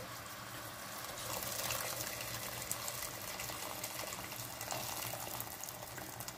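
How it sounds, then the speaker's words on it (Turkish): Water pours steadily into a pot of cooking tomatoes, a continuous splashing gush with faint bubbling beneath it, close and moderately quiet, with no voices. "Şimdi de suyunu ilave ediyorum."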